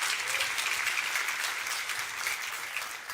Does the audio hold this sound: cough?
no